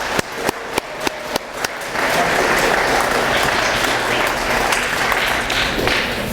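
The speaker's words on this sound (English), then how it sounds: "Please give yourself a round of applause." An audience at a middle school graduation ceremony breaks into loud, sustained applause, starting with a few isolated claps before the crowd joins in a dense, continuous wash of clapping.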